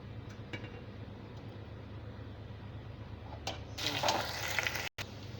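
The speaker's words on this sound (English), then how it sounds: "So the oil is hot already. I have to just put it inside the oil." Mushrooms drop into already hot oil in a pan, giving a quiet, steady sizzle that swells into louder frying and bubbling near the end, with no talking.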